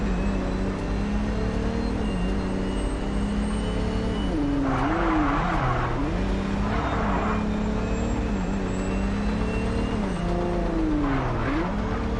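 A car in the video game MindsEye drives with a steady engine drone, its tires squealing in several short bursts as it corners, close and continuous throughout.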